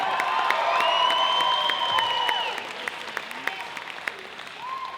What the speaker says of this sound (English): How about you keep the round of applause going for your amazingly talented host, Chris Lane.